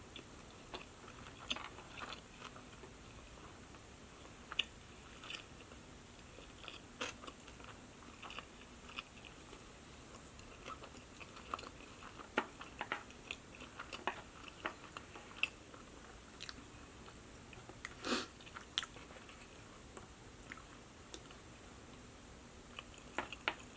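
Soft, close mouth sounds of chewing spider roll sushi with soft shell crab, avocado and cucumber, a steady stream of small crunchy bites and wet mastication, quiet and without talk.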